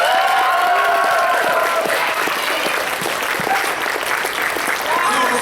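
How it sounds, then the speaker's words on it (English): A convention crowd at a mock cartoon court applauds and cheers, sustained dense clapping with voices over it, loud and close. "can I please have a round of applause for Queen Chrysalis?"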